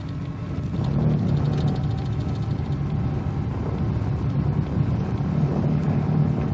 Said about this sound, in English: Barney, let's start engine number 2.